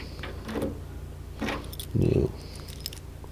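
A bunch of keys jangles a few times in short bursts close by, with a low background hum between the rattles, while trying keys in the doors of a rusty 1973 Ford Capri GXL 3000cc.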